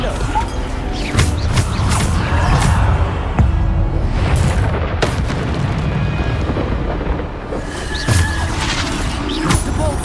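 Bombarda spell blasts in Hogwarts Legacy, loud booming explosions and crashing debris over a dense rumbling game soundscape, with several sharp impacts spread across the stretch.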